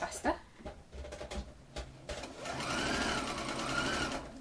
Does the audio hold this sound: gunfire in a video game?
no